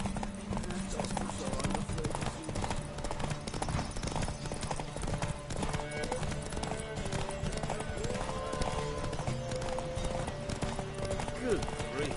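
Clip-clop of a horse galloping in a race in The Witcher 3 video game on PS4 Pro, a steady rapid hoofbeat rhythm running throughout alongside game music and ambience, with a voice heard briefly.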